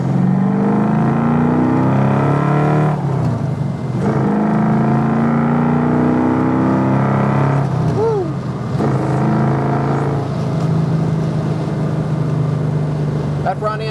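A 1967 Ford Mustang S-code accelerates hard through the gears, its loud close engine note rising in strong pulls, with brief dips at shifts and a voice speaking over it.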